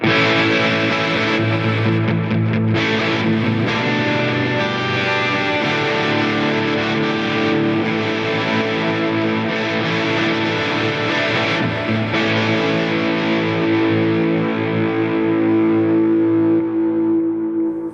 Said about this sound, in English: the only things running now are the delay and the reverb